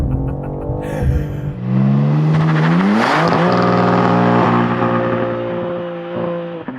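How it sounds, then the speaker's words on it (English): A BMW engine revs hard during a brake boost launch, with a loud rising roar that climbs sharply, holds a high strained tone, then eases, close and alone. "Let's see what happens if I brake boost it."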